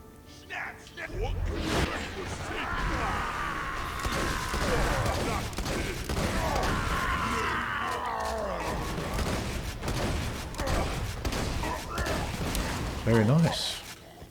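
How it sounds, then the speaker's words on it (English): In Borderlands 2 combat against orcs, a sword explosion goes off amid dense, continuous battle noise: whooshes, blasts, clanks and impacts layered together, with voices talking over the chaos. "Let's see how this sword explosion goes against these orcs."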